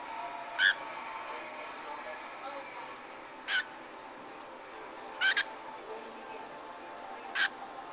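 A pet cockatiel indoors giving four short, sharp, high chirps spaced a couple of seconds apart, moderately close over a quiet room hum.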